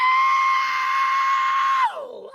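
A voice imitates a jet with a sustained high, piercing screech-whistle that holds steady, then drops sharply in pitch as it trails off.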